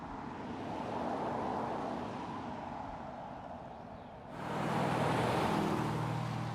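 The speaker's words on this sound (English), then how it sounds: "the vehicle passes the route ahead dynamically, comfortably, or adapted to fuel efficiency" A Mercedes-Benz car drives along a road, a steady broadband tire and wind rush with a low engine hum that swells louder and fuller partway through, with no talk.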